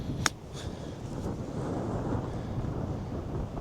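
Wind gusts across an open country club golf course, a steady low rumbling buffet against the microphone with a faint click near the start.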